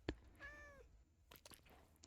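A cat in a Minecraft modpack game gives a single clear meow, framed by a couple of short clicks and soft movement noises, with no talking.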